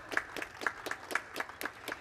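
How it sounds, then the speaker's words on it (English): An audience at a chamber music concert claps in a round of applause, a steady patter of individual hand claps, fairly faint and distant, heard alone without talk. "let's go ahead and give them a big round of applause"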